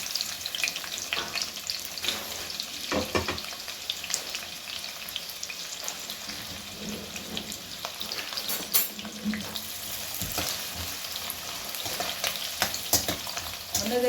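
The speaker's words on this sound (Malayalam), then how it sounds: "ഇവിടെ റൈസ് ബ്രാൻ ഓയിലാണ് കേട്ടോ ഈ ഉപയോഗിക്കുന്നത്. ഒന്ന് ചൂടായി. സവാള ഒന്ന് നമുക്ക് വറുത്തെടുക്കണം." Sliced onions fry in hot rice bran oil for kadai chicken, giving a steady close sizzle broken by the occasional clatter of stirring in the pan.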